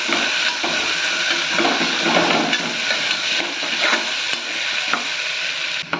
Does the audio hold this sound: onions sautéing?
yes